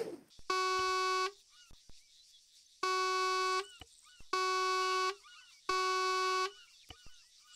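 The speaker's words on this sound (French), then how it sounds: "Elle a vraiment un klaxon de merde ta voiture." A car horn in the Arma 3 video game honks four times, each blast a flat, buzzy tone of about a second, separated by brief gaps with faint background noise.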